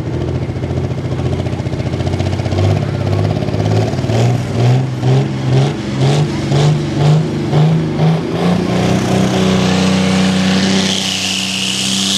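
A diesel two-wheel-drive pulling truck revs hard at a truck pull, its engine rising and falling in a steady series of loud throttle blips before climbing to a sustained, strained roar near the end.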